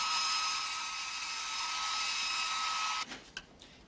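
A hair dryer runs with a steady, loud whine and airy rush for about three seconds, then cuts off abruptly, leaving a few faint clicks and rustles.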